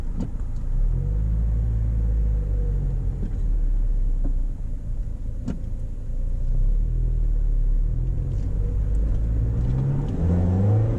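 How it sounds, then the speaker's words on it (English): Mazda Miata MX-5 engine pulling hard as the car accelerates, a loud, steady close rumble with rising rev sweeps, heard from inside the cabin with no talking. "Accelerates very nicely."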